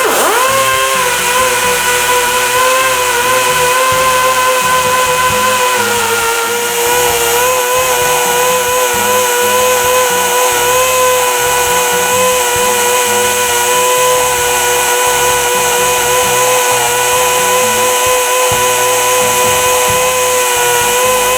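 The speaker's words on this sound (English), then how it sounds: "now I'm just going to take a Dremel and I'm going to go in there and clean up the backside" A Dremel rotary tool grinds metal, cleaning up the backside of a cut. It gives a loud, continuous high-pitched whine that holds steady for over twenty seconds with no voices.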